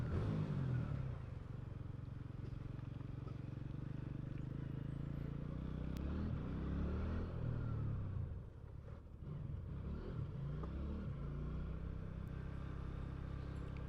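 A TVS Radeon motorcycle engine revs steadily while being ridden, a loud, continuous low rumble with slight rises and dips and a brief dip near the end, with no talking over it.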